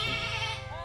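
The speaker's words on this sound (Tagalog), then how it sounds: "Nagpapakain ng kambing!" A goat bleats loudly and close by while being fed at a farm in the Philippines, one sustained wavering call lasting under a second.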